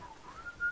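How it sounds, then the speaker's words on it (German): A faint, thin whistled tone from someone in the GTA 5 Online video game, wavering slightly in pitch and swelling briefly near the end, with no talking over it. "Wer pfeift da so rum?"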